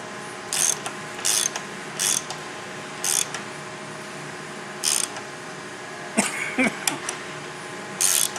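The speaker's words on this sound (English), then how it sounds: "Now we're going to go down and tighten these 4 bolts, 2 on each side." A ratchet wrench clicks in short bursts while tightening bolts on a Ryfab windshield fitted to a Polaris General, with about ten quick ratcheting spurts spaced a second or so apart, close and crisp over a quiet hum.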